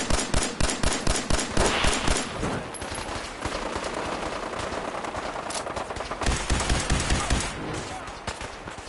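Rapid gunfire rattles through a Fallout 4 firefight, loud close bursts of automatic shots at a steady rhythm, then a denser wash of continuous shooting and another run of distinct cracks.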